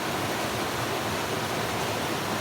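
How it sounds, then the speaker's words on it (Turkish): A creek flows steadily in a broad, even rush of running water, close and continuous with no voices. "Burası dere. Çok güzel manzara var. Akışı güzel."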